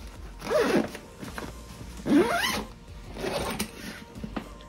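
A zipper on a Lo & Sons Catalina Deluxe tote bag is pulled closed in two or three quick, close zips, with short pauses and faint handling rustle between them.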